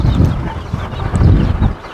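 A broody hen with her Indian chicks makes low, loud, close clucking in uneven bursts, with a faint higher peep cutting through briefly.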